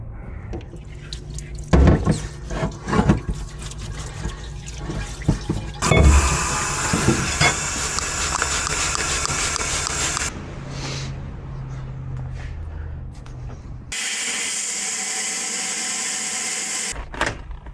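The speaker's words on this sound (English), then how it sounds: "Now we're going to take these over and clean them up really good with the parts washer." Dal Soggio suspension fork parts being cleaned in a parts washer, with splashing and running liquid, clanks of parts being handled, and a steady spraying hiss that stops, then resumes briefly.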